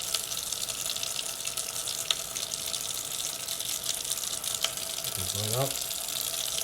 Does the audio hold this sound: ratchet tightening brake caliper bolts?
no